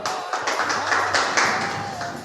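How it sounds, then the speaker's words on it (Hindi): Hall audience at a community Holi gathering in Ratangarh claps, a short uneven burst of hand claps at moderate level with a faint voice and tone behind it. "जोरदार तालियां"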